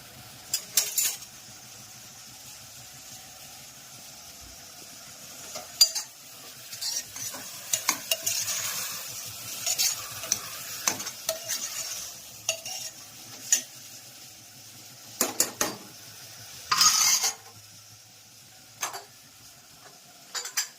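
Spices with chutney, turmeric, coriander-cumin and salt sizzle in hot oil as a tempering, a faint sizzle broken by stirring scrapes and metal clinks against the pot.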